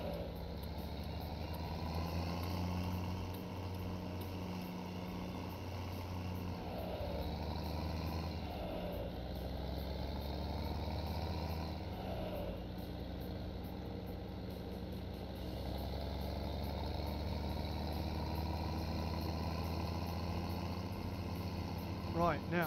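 Tractor engine in Farming Simulator 17 holding a steady low idle drone throughout, close and even, with someone talking over it.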